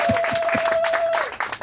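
Applause and cheering from a crowd at a 60th birthday party, a dense clapping wash with a long whistle or tone over it, close and fairly loud throughout.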